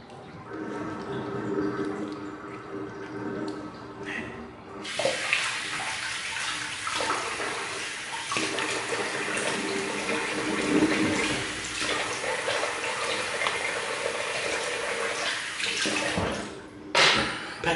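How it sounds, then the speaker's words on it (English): Running tap water splashing steadily in a bathroom sink as a face is rinsed after a wet shave, starting softer then gushing louder and continuous, with a brief break and final splash near the end. "I'll just rinse off."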